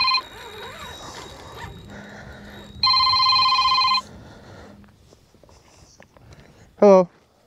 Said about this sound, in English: Oh no, my work phone, guys.